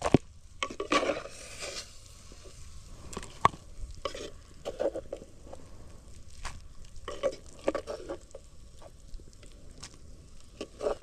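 Macaroni and matoke frying in a pot, with a soft sizzle beneath repeated scraping strokes of a utensil stirring against the pot, close and uneven.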